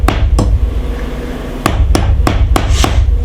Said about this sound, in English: So we just went with a regular hammer.